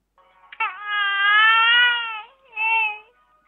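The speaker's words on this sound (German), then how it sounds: "Habt ihr diese Babygeräusche gerade gehört?" A baby's high, sustained crying wail, stretching for about two seconds before a short pause and then a second shorter cry. The sound is close, clear and alone, with no talking over it.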